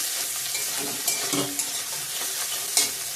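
Chopped ginger hitting hot oil in a frying pan for an egg and potato curry, giving a steady close sizzle with brief stirring scrapes and clinks throughout.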